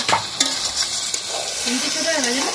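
Duck meat being stirred with spices in a large, crowded wok, a loud close sizzle with heavy scraping strokes of a spatula and occasional clinks of metal.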